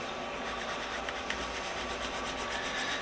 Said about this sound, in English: go find some 4/0 steel wool. Alright, got me a little piece. Rub the oil around a little bit.